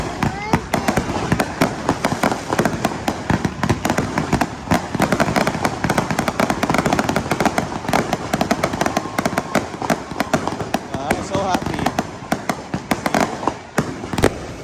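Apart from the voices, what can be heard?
fireworks display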